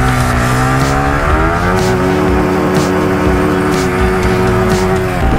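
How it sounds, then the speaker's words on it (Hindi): Motorbike burnout with a loud continuous engine roar held at high revs and rough tire squeal throughout, close and alone. "बर्नआउट लगा दिया।"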